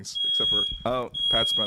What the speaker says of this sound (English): that's the alarm test in my apartment that's saying that we should end the show